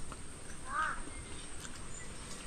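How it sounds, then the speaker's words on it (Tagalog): A crow near a river dam gives a single short caw in the middle of a quiet outdoor scene, set against faint background hiss. "Galit yung uwak."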